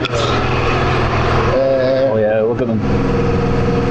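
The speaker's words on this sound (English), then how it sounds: "Fully rebuilt from the ground up. This engine has everything: titanium manifolds." A rebuilt supercharged WRC rally car engine runs loud and close, with a steady rumble and a brief change in revs midway as people talk over it.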